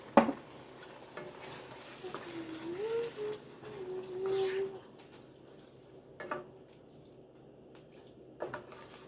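Taco spaghetti mixture stirred around a pan with a soft, steady scraping and faint sizzle, close by, with a few sharper clinks of the utensil against the pan.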